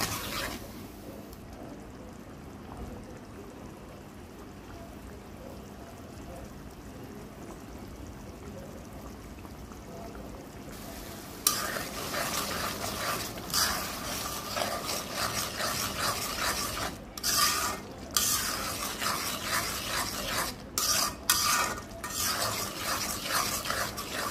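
Whole cardamom pods and cinnamon frying in a pan for a beef curry, stirred with clinking scrapes of a spoon against the metal, quiet at first then busier, with irregular scraping and knocks in the later stretch.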